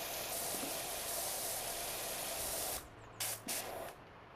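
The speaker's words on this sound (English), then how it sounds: "See if I can't spray this side." A pressure washer sprays continuously in PowerWash Simulator 2, a loud, steady broadband hiss. Near the end it cuts out and restarts in a few short bursts.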